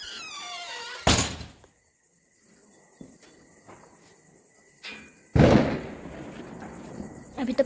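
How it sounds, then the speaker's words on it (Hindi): Two loud broadband bursts of firecrackers exploding outdoors during Diwali, separated by a few seconds, over a steady insect chirp and faint background voices. "अभी तो पटाखे भी फोड़ने लगते हैं जल्दी।"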